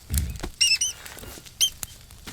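A mouse in the survival video game Green Hell scurries with light pattering steps and a few high squeaks, heard in short bursts.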